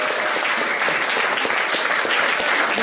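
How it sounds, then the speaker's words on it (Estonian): Wedding guests applaud, a dense, loud, continuous wash of many hands clapping together with no pauses. "tehke aplaus, kui te tõmbate."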